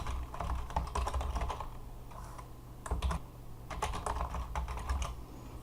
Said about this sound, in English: you type in their name, you type in their email address